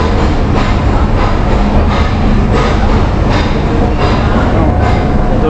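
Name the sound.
Nilgiri Mountain Railway toy train pulling into station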